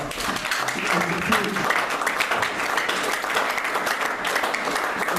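Sustained applause from a congregation during a church service, steady and fairly loud across the whole stretch, with voices mixed in beneath the clapping.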